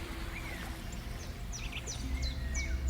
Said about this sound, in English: You can hear the birds surrounding you.